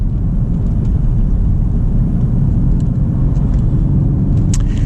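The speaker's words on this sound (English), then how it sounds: "when you want that turbo V8, it gives it to you" Mercedes C63 AMG convertible with a turbo V8 accelerating in sport mode with an automatic gearbox, a steady loud low engine rumble that holds throughout, heard from inside the car, with no talking.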